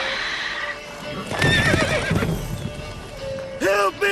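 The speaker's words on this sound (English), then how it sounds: "Whoa there, Roach" A horse in the Witcher 3 video game whinnies loudly up close as its hooves clip-clop, with a short snort-like call near the end and a voice briefly speaking over it.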